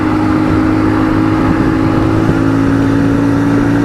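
A 2025 Ibex 450 single-cylinder motorcycle in sixth gear at about 65 mph accelerates to overtake a truck, its steady engine drone humming loudly beneath constant wind roar, with no talking.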